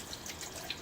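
Tap water runs steadily into a sink while a hand is rinsed during a wet shave, a soft continuous splashing hiss with small droplet flickers, fairly quiet and close.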